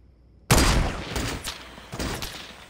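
Gunfire in the Fortnite video game: a sudden loud burst of shots opens, followed by a rapid scatter of further cracks that trail off slightly, with no voices.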